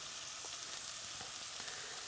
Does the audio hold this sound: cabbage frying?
yes